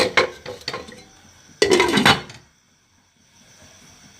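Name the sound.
pan being covered with a lid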